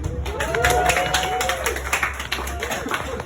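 An audience claps in scattered bursts at a live show in Seoul, the sharp claps mixed with crowd murmur and a voice talking over them.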